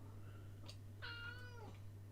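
Rescue cat giving a single drawn-out meow, close and clear, over a steady low electrical hum with no talking.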